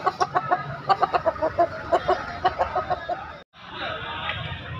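Chickens cluck at a street market on Jalan Bayangkara in Makassar, a rapid series of close, loud clucks and calls over market noise, followed by a brief gap and busier background din.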